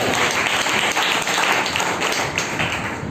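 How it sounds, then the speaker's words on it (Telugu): A church congregation claps together, a loud sustained round of applause with dense, overlapping hand claps and no break for the whole stretch. "చప్పట్లు చేయండి"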